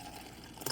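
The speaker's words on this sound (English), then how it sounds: "let's pour this into our ice" Boba tea poured over ice in a cup at home, a steady soft trickle of liquid with a brief brighter splash near the end, fairly quiet and close, with no talking.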